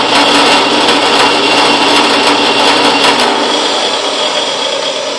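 Harbor Freight drill press (item 39955) converted into a mill, running a milling cut as a loud, steady, close mechanical whine and grind that holds evenly throughout, without speech.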